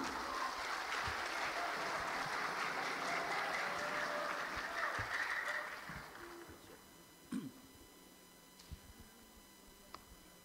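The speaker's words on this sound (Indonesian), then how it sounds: "bersama-sama kita berikan tepuk tangan bersama." An audience at the final of a national Quran quiz competition applauds, with steady dense clapping for about six seconds that then fades to a few scattered claps and ticks.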